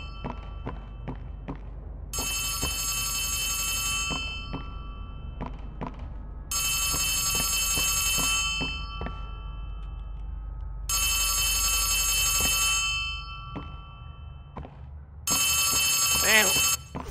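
A telephone rings inside the horror video game Poppy Playtime Chapter 3, sounding in four long, bright bursts separated by pauses, with scattered thumps and low game noise between the rings.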